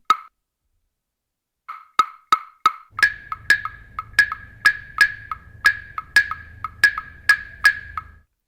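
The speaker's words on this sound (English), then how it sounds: "The guanguanco clave sounds like this" Sharp wooden clave clicks tap out a guaguancó clave pattern, a few sparse hits first, then a steady repeating rhythm over a low drum pulse.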